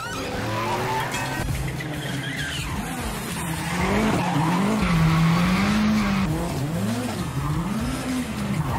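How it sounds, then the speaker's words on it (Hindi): A race car drifts with its tires skidding, a loud continuous squeal wavering up and down over a roaring, revving engine, close and sustained without any talk. "यह है अमेरिकन रेस ड्राइवर केन अपनी स्किल ड्रिफ्टिंग के साथ।"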